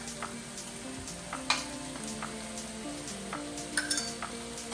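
Salt and black pepper being stirred into food frying in a pan, a steady soft sizzle under light scraping and clinking of a utensil against the pan, with a faint tone running beneath.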